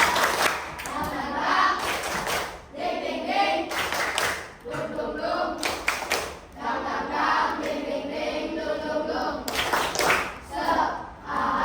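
A class of students performs a rhythmic spirit clap (tepuk semangat) during an Islamic religious education lesson, with bursts of patterned clapping separated by short pauses and young voices chanting along.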